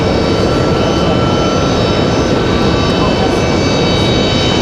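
A Republic Airways jet arriving from Chicago at Raleigh-Durham airport produces a loud, sustained engine roar with faint whining tones above it, steady from start to finish.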